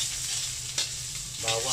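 Onion sautéing in a pan for Filipino beef papaitan, a steady close sizzle and fry throughout with a brief stir or scrape near the end, no talking.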